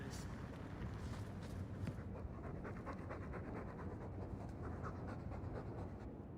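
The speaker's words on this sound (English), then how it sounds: "All that noisy dog breath, day in, day out." Heavy, steady dog panting from a character's dog in the video game Dragon Age 2, a continuous close rasping breath running throughout with game ambience beneath.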